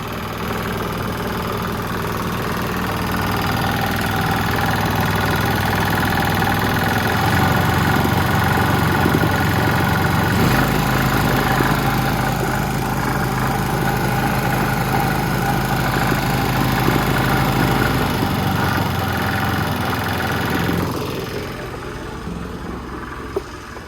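Rebuilt Honda GX270 small engine running at low throttle, a steady close idling drone with knocking vibration that shifts in pitch a few times before easing off near the end, with no talking.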